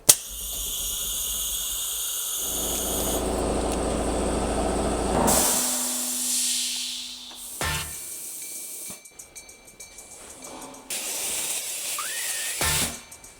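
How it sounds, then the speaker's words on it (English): X1 Pro laser cutting 2mm metal sheet with air assist: a steady loud hiss of blowing air over a low hum, with several breaks, shifts and a faint whine partway through, no voices. "it's a great way to test the cutting function on the X1 Pro"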